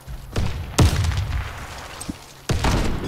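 Grenade blasts in the shooter game Warface, several loud booming thuds with sharp attacks, one around a third of a second in, a heavier one near 0.8 seconds, and another at 2.5 seconds, each trailing into rumbling decay.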